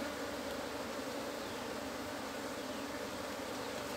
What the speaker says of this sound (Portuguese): É um enxame bem populoso